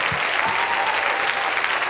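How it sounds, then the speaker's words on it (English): A church congregation claps hands in a dense, steady burst of applause, loud and continuous throughout. "Clap your hands like you mean it."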